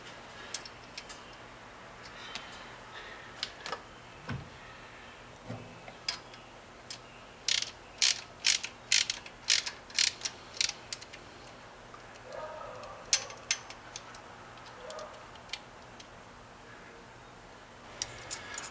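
Ratchet tightening bolts on a 1968 Pontiac LeMans in a garage, bursts of quick clicking strokes in a loose rhythm with scattered knocks and quiet gaps between.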